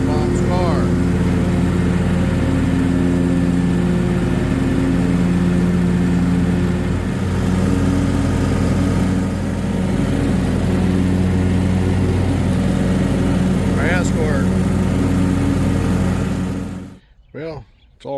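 A lawn mower engine drones steadily while mowing on a family farm, holding a constant, fairly loud hum for most of the stretch before cutting off abruptly near the end.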